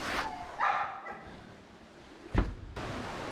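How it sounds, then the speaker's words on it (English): Two friendly dogs bark outdoors on a rocky path, a few short separate barks at moderate distance with quiet gaps between. "just two friendly doggies"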